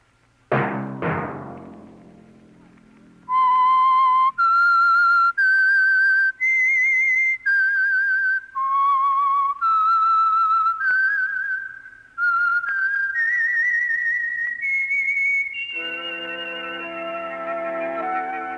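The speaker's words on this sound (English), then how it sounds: "Let that whistle be your signal" A whistled theme tune of clear, sustained notes rising and falling in a melody, loud and alone, ending on a held orchestral chord, from a 1951 radio drama.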